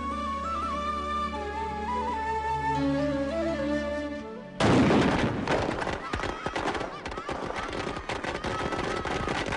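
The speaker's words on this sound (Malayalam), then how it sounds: "കുരുത്തം കേട്ട പിള്ളേര് കുണ്ടിപ്പുറയിലിട്ടാ പടക്കം പൊട്ടിക്കുന്നേ" After a passage of music, firecrackers set off by kids near a temple path burst in a rapid, crackling volley, loud and close, continuing to the end.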